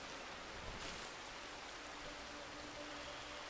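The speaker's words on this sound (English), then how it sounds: "Is it raining? Yeah." Rain falling in the video game Rimworld, a soft steady hiss of drops, faint and continuous, with a brief brighter burst near the start.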